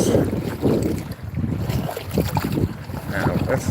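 Choppy waves slapping around a fishing boat off Florida's east coast on a windy day, with gusting wind buffeting the microphone in uneven surges.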